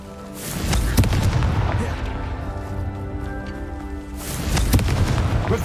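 A Confringo blasting spell goes off in the video game Hogwarts Legacy, with two loud booming explosions about four seconds apart, each trailing into a sustained rumble over a tonal game soundtrack.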